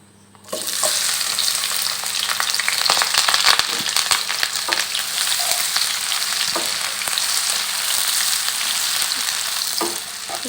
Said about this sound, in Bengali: তেল গরম হয়ে গেছে এবার এর ভিতরে দিয়ে দেব আস্ত রসুন এবং কুচো করে রাখা পেঁয়াজ